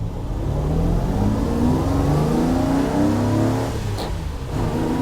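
A car accelerates hard in second gear, its engine note climbing steadily and loudly close by, then easing off toward the end with no one speaking.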